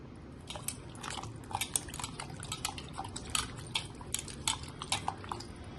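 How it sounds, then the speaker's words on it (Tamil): Splashing water and wet knocks on a cut white pumpkin being washed in a bowl, with small clatters, close up and continuous. "இது நல்லா தண்ணி விட்டு வாஷ் பண்ணிக்கலாம்"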